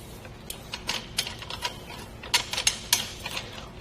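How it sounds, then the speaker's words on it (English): A threaded knob on a Hollywood Racks Destination four-bike hitch rack on a 2016 Toyota is spun out, giving a series of light, irregular clicking and ticking taps over a faint background hum. "all we have to do is pop that guy like so, and start spinning out the rest of our knob."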